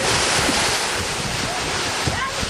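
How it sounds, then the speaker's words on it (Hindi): Floodwater rushes through a swollen river after heavy rain in the Belghat area of Gorakhpur district, a loud, steady roar of churning water with wind buffeting the microphone. "बारिश और बाढ़ के बाद यहाँ की नदियां भी उफान पर हैं।"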